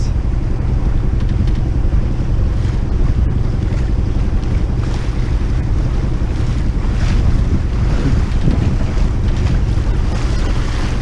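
Strong west wind buffets the microphone over the constant slap and wash of choppy water against a boat on the St. Lawrence near Tadoussac, loud and unbroken.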